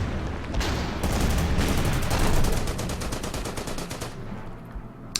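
Rapid machine-gun and rifle fire aimed at a KV tank in the WWII strategy game Order of Battle, Demyansk battle, a dense continuous rattle of shots lasting several seconds before tapering off.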